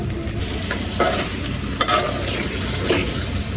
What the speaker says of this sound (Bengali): রোস্টের পিসগুলা কিন্তু পাঁচ মিনিটের মতো কষাইছি